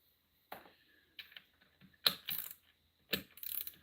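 Ratchet clicks while tightening countershaft parts on a WR450 dirt bike, arriving in short sharp bursts of rapid metallic ticking separated by brief pauses, close and quiet with no talking.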